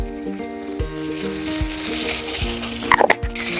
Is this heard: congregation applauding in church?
no